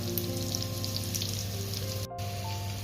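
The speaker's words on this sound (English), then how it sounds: "So you put the skin side down first. So I'm going to sear these." Chicken pieces seared skin side down in a hot pan, a steady dense sizzle and crackle of frying close up with no voices, continuing evenly throughout.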